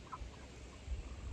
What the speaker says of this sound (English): These chickens are no louder than the birds in the trees as long as they're happy.